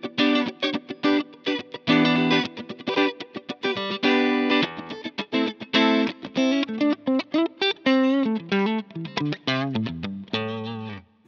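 Electric guitar on the neck pickup through a Line 6 Helix patch, a loud melodic run of distorted, chorus-tinged notes with quick picked phrases and a few sustained bends, played alone.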